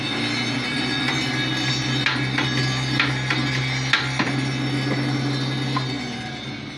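A hydraulic hose crimping machine running, a steady loud hydraulic hum with a low droning tone and a few faint clicks and knocks over it, close by and with no talk.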